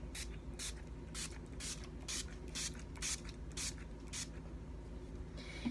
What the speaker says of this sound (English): taking your favorite setting spray